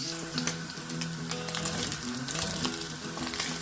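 Cow beef tongue fries in a pan, a steady close sizzle with crackling pops throughout and faint background clatter, no talking.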